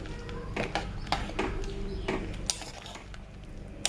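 Boiled chicken with bamboo shoot stirred in a pot, with repeated metallic clinks and scrapes of a spoon against the pot over a steady low background hum, close by.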